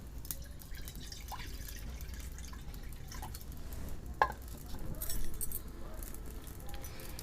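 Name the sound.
pouring a little water into a wok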